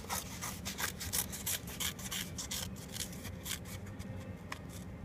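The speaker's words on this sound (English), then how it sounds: "And then I'm going to cut on that line." Scissors cut along a traced line in paper or card for a tiki mask craft, giving close, steady rasping snips that repeat in a quick rhythm, alone without talk.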